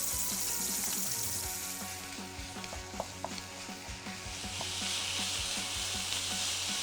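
Ground meat for a ragù sears in a pan with a close, steady sizzle and crackle, interrupted by a few light clicks and scrapes of a stirring utensil.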